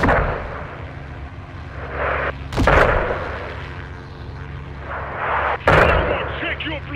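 Artillery fire in Call of Duty Modern Warfare 2 during a Mexico mission, with two heavy blasts about three seconds apart over a constant rumbling battlefield background.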